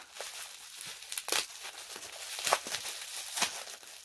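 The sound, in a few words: unwrapping a bubble-wrapped item from a box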